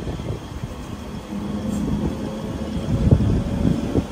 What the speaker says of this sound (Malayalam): ബനിഹാൾ റെയിൽവേ സ്റ്റേഷൻ നിന്ന് കറക്റ്റ് 4:25 തന്നെ നമ്മുടെ 7 ട്രെയിൻ എടുത്തിരിക്കുകയാണ്